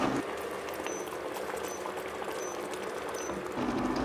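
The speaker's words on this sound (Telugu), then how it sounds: "కర్రీ ఉడుకుతున్నప్పుడు కొద్దిగా కొత్తిమీరను కూడా చల్లుకోవాలి" Andhra-style stuffed brinjal curry simmering in a pot, a continuous close bubbling and gentle popping, steady and fairly soft, with no talk.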